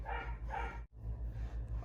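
A dog yips and barks indoors in short, repeated bursts, close and moderately loud over a steady low hum, with a brief gap midway.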